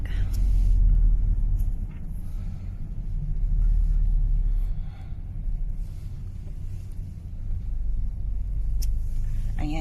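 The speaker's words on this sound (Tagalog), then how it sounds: "Ayan, ayan, traffic." Street traffic with cars passing in the Czech Republic, a steady low rumble that swells and fades as vehicles go by, with people talking faintly in the background.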